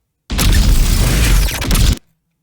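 A single loud, dense burst of crackling electrical noise, an electric magic staff firing a shot, lasts under two seconds, then cuts off abruptly into silence.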